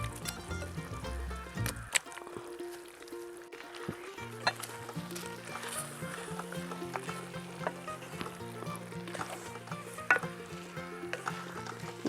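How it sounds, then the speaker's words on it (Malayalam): Masala paste with chicken pieces for a home-style chicken curry bubbles and sizzles in a pot, a soft continuous crackle under a layer of background music. "അരപ്പ് തിളച്ചല്ലോ"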